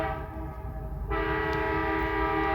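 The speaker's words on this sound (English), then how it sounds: "Train." A passing train sounds a sustained, loud horn blast with rumbling rail noise beneath, the tone stepping up partway through.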